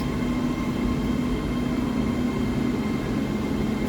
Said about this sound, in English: the Leeds train would arrive at the same time